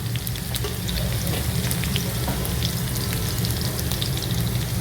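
Chopped garlic and slit green chillies fry in a pan for chilli garlic chicken noodles: a dense, loud, continuous sizzle and crackle heard up close with no talking.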